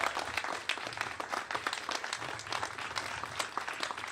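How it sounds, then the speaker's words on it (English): A talk-event audience claps for a presenter, producing a soft, dense patter of applause that sounds somewhat distant and keeps an even level throughout. "Let's give Sully a round of applause."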